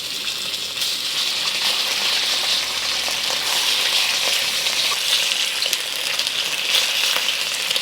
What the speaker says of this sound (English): I really want this fish to fry up well.